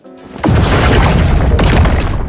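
Kaguya's fire ability goes off in the game Anime Vanguards with a sudden loud whooshing boom that swells into a sustained roaring burn lasting a couple of seconds, close and dominant.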